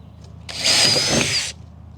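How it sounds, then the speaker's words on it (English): A power drill bores a hole through a wooden board, one close, loud, steady whir lasting about a second, with a short spin-up and an abrupt stop, alone against quiet background. "Finish drilling these last 2 holes"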